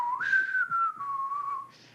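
A person whistles a sustained, wavering melody alone, the clear tone gliding up and then settling into a long steady line, with faint breathy accents between notes.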